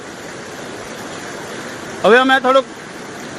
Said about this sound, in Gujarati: ધોધમાર પાણીનો પ્રવાહ આવી રહ્યો છે ઓજત નદીમાંથી